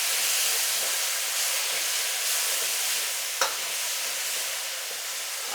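Food sautéing in a pan with sauces, black pepper and salt, a continuous bright sizzle and hiss with a brief stirring clatter partway through, close and steady with no talking.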